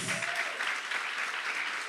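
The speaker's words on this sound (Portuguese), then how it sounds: "Ei, vale um aplauso para Jesus." A church congregation applauds during a sermon, a steady, dense clapping from a crowd of listeners that holds evenly across a short moment.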